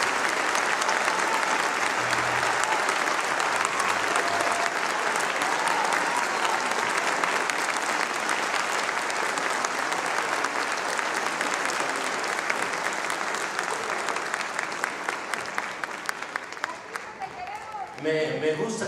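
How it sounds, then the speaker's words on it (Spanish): A concert crowd applauds a band of Mexican musicians at a cultural center, a long, loud, dense roar of clapping that holds steady before thinning toward the end. "Extraordinaria de músicos mexicanos, a las cuales les tenemos que dar un aplauso."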